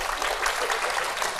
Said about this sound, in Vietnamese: Em vỗ tay nhiệt tình.